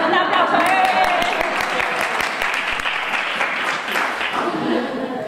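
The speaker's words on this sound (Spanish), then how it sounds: "Un aplauso." Sustained applause from a crowd, dense steady clapping throughout, with some voices mixed in underneath.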